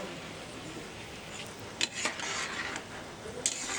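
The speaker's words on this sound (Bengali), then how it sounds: "জাল দিয়ে নাড়তে হবে।" Raw mango pulp being stirred in a pan while it boils down for mango leather, with a soft continuous bubbling and rubbing, and a few light scrapes and knocks of the spoon against the pan.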